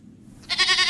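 A goat gives a short bleat that starts about halfway in and is loud and close, after a quiet start. No one speaks.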